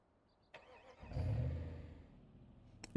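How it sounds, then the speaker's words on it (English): A car engine in a video game starts and settles into a low idle, a brief rumbling burst that fades to a quiet purr. "I had to raise the game volume for you to hear the actual car"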